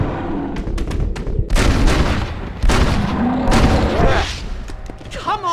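Rapid, loud gunshots crack out during a bear attack in the Western video game Red Dead Redemption, a dense volley of booming reports with shouting voices mixed in.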